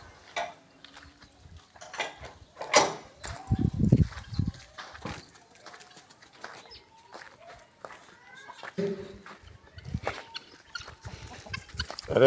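Chickens cluck and squawk around a farmyard while people talk nearby, with footsteps and occasional clattering mixed in.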